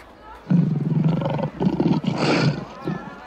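A lion roars in a series of deep, rough, rhythmic bellows that swell loud and close, then fade.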